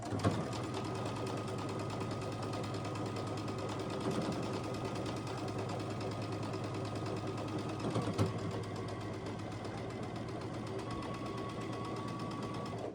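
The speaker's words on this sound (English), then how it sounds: "So let me line this up, stitch it down this side." A sewing machine runs steadily, stitching quilt block units together with a constant rapid mechanical whir and needle chatter for the whole stretch, close and even with no talking.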